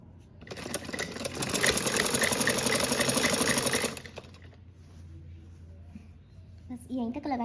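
A sewing machine stitching a line down the middle of frock suit fabric, a fast even mechanical whir running loud for about three seconds then stopping, followed by quieter handling noise and a brief voice near the end.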